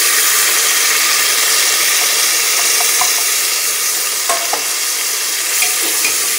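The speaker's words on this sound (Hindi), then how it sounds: "सभी चीज़ों को यहाँ पे हमें हल्का सा फ्राई कर लेना है।" Onion and chana dal fry in a pan with a steady sizzle, a continuous broad hiss with occasional small clicks of stirring, loud and close with no talking.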